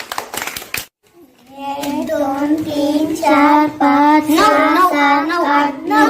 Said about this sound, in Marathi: टाळ्या वाजव यांच्यासाठी